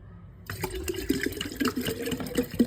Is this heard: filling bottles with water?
yes